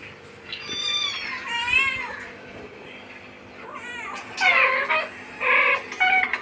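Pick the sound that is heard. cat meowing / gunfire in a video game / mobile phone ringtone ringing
cat meowing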